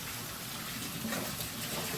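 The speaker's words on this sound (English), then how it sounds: "I'm just kind of rinsing everything off." Tap water runs steadily as Keurig coffee maker parts such as the drip tray are rinsed off after soaking, a constant moderate gushing splash with no voices.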